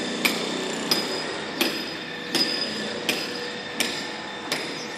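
Sharp metallic hammer strikes ring out at a steady pace, about one per second, over a constant background hum of mosque construction at Akdeniz University.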